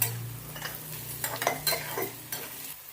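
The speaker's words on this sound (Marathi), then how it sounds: "कांदा लवकर परतण्यासाठी आपण त्यामुळे मध्ये चवीनुसार मीठ टाकूया" Chopped onion frying with salt in a pan, a soft sizzle under scraping stirs of a spoon, close and fairly quiet.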